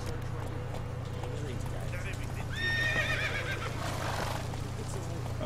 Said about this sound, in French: Je vais reprendre le cheval.